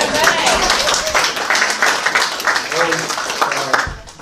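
An indoor art-group audience applauds, a steady wash of many hands clapping at close range through the whole stretch, with a voice faintly mixed in underneath.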